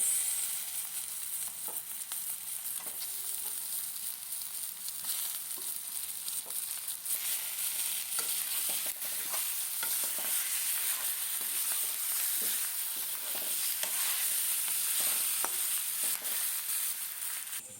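Onion, garlic, ginger and chili fry in hot oil with boroli fish, producing a steady, close sizzle broken by small stirring scrapes, with no voices.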